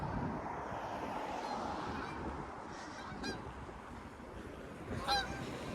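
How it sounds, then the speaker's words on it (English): Canada geese honk a couple of times at a distance near the York University Markham campus, short nasal calls standing out over steady wind and outdoor background noise. "I got some Canada Geese"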